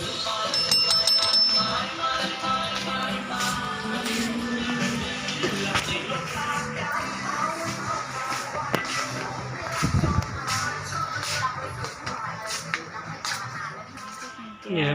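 A small bell rings briefly near the start with a thin, sustained tone at an Indochina shopping market, then fades into steady crowd chatter and general bustle that fill the rest of the clip.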